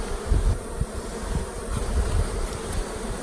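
Honeybees in an opened Mini Plus mating hive drone in a low, steady buzz with swells and individual bees flitting close by, heard with no talking.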